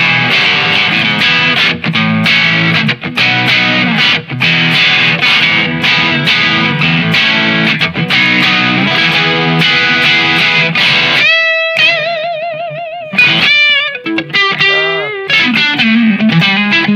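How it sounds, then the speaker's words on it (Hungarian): An electric guitar played through the neck pickup with light distortion sustains loud strummed chords, then shifts to ringing, bending single notes and harmonics near the end. "Kisebb torzítóval a nyaki."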